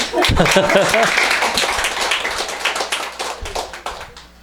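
Brief clapping from a small audience at the start of a university professor's special lecture, heard as a short burst of hand claps that quickly fades, mixed with greeting voices.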